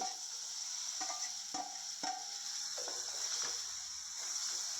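Pomfret pieces fry in homemade garam masala, a steady bright sizzle broken by several sharp spoon scrapes and knocks against the pan at regular intervals.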